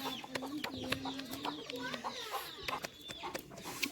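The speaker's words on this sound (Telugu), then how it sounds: "ఈ రొట్టె చేస్తుంటే కోళ్ళు మా దీని చుట్టే తిరుగుతున్నాయి" Chickens cluck and chirp in short bursts, close by, gathering around flatbreads being made outdoors, with outdoor background noise and a low steady hum.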